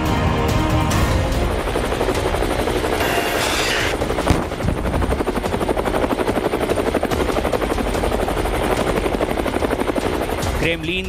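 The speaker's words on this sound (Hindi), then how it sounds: "रूस से हेलीकॉप्टर का एक काफिला यूक्रेन की तरफ बढ़ चला" A convoy of Russian military helicopters roars past in a loud, continuous rotor drone with a fast chopping pulse, steady throughout, with a voice speaking over it.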